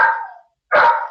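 A dog barks twice at a home phone ringing, two loud close barks separated by a short silence, with no talking.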